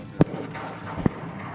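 Two sharp shotgun blasts fired while duck hunting outdoors, each a brief loud crack, the first stronger and the second about a second later, close by over faint background noise.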